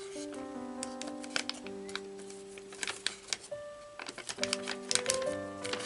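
Folded origami paper for a table model is opened out by hand, with light crinkling and crisp paper clicks in short bursts under soft background music.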